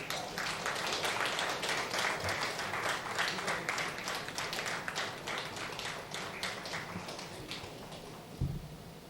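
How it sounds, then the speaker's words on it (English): Audience applause at an award ceremony as a scientist receives a memorial award, clapping that is loud at first and gradually thins out, with a brief bump near the end. "Let's give him a huge round of applause."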